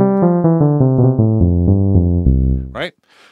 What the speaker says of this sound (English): So that's the sound of the Synthesizer V with no voice loaded.